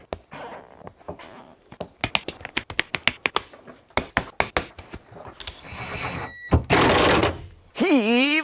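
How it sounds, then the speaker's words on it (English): Zip ties being ratcheted tight while reupholstering a car seat, a run of sharp clicks and taps that are close and loud, followed by rustling fabric and a brief whooshing scrape. "All right, commence with the zip tying."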